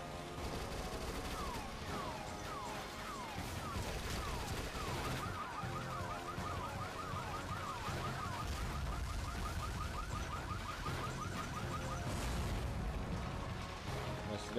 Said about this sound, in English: don't forget to use the alarm cars